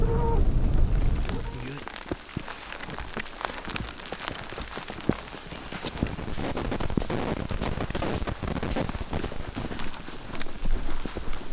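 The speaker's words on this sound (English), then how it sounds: "Sitting out here in the freezing rain." Freezing rain falling outdoors during a winter blizzard, a dense steady patter of drops on surfaces close by, with occasional louder taps and a rumbling burst at the start.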